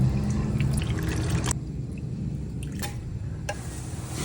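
Soy sauce is poured over chicken while cooking, giving a close, steady liquid trickle and splashing over a low background, with a few brief clinks and taps.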